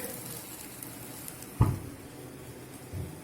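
Curry leaves go into hot oil, giving a faint, steady sizzle with one sudden louder crackling burst as they hit the pan, heard alone without speech.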